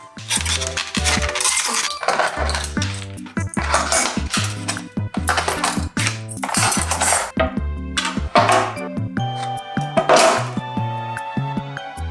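Metallic clanks and rattles of a cooking pot being handled, repeated ringing knocks with short pauses, close and fairly loud.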